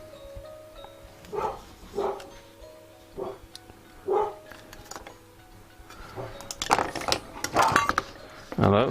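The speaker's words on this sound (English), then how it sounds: "the dogs have heard someone at the back" Dogs barking at night in a house, a series of about five short, evenly spaced barks followed by a denser, louder burst of barking toward the end, with faint clinking in the background.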